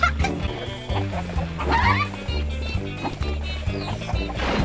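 Chickens cluck in the Shrek 2 video game on PS2 in Shrek's swamp, quick bursty clucks over a loud, busy game music bed that continues throughout.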